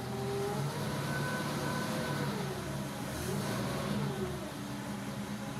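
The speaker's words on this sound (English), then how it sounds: "More gas in the carburetor now, it runs." A 1953 Pontiac's carbureted engine idles steadily nearby, a continuous low rumbling drone with slight rises and dips in pitch, no talking.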